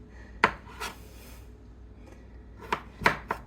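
Several crisp knife strokes slicing food paper thin, spaced irregularly with a pause in the middle, close and fairly quiet with no talking.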